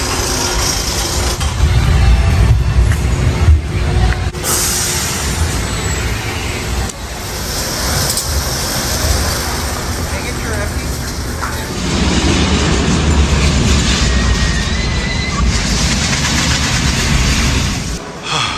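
A loud, continuous roar of a ride on the Viper steel roller coaster at Six Flags Magic Mountain, with rumbling track and wind noise that swell and dip over the run, close and with no clear speech.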